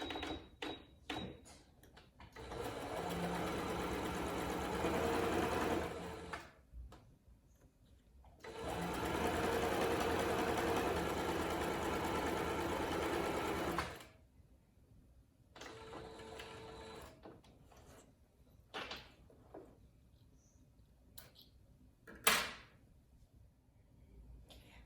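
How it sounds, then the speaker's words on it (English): Sewing machine stitching fabric for a face mask, running in two long continuous bursts of rapid mechanical whirring, with short clicks and pauses between them, close and clear. "And we are going to sew here and here."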